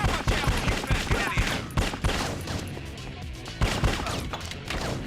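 Rapid bursts of gunfire from a GameCube shooting game, with dense, loud volleys of shots in quick succession and occasional crashing impacts.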